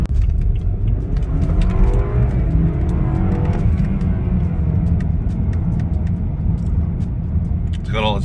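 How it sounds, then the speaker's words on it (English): A repaired turbocharged BMW is driven on the road, with a steady engine rumble and broad road and tyre noise running throughout, the engine note rising and shifting with acceleration in the middle. "The car drives perfect."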